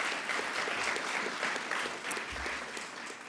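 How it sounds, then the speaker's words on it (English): Audience applause for Governor Hochul at a Long Island affordability event, a steady wash of many hands clapping that holds evenly for a few seconds, moderately distant and without speech over it. "another round of applause for the governor"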